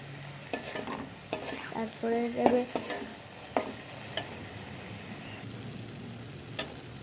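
Chopped tomatoes frying with ginger-garlic paste and cumin in a pan, a steady soft sizzle broken by scattered clicks and stirring scrapes, with a short clatter of utensil sounds early on.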